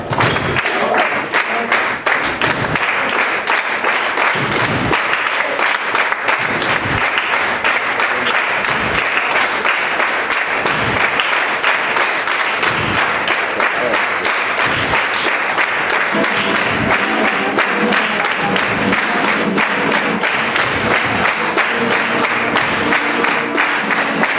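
Flamenco palmas por bulería in Algeciras: sustained, loud, dense hand clapping from several people, a rapid continuous rhythmic patter with occasional low thumps, lasting throughout without talk.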